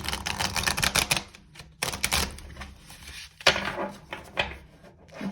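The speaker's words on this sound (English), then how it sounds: "I just want you to think about your question while I shuffle." Tarot cards being shuffled by hand, a run of quick crisp riffling and slapping card bursts with short pauses between, close and fairly clear, no voices.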